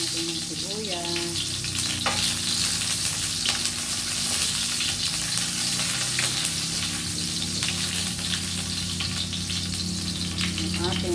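Onion frying in a pan, a loud continuous sizzle with occasional stirring scrapes and utensil clicks, steady throughout with no talk.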